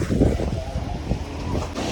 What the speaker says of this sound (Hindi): यहाँ पे ना बहुत ज़्यादा जोरों से हवा चल रहा है